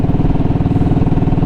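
A Royal Enfield Classic 500 motorcycle being ridden on a cold morning, its engine a steady, close, low thumping rumble with a rapid even pulse throughout.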